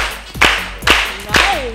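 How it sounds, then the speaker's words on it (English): Hands clapping during a Zumba session, three sharp claps in a steady rhythm, fairly close, with a brief vocal sound near the end. "We can clap to get it party going."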